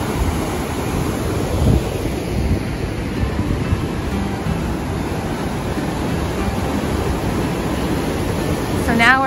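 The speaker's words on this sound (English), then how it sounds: "Very fast, rushing waters." Steady, dense rushing river water near Niagara Falls, New York, fills the scene, a continuous broadband roar with a few louder surges, close and unbroken throughout.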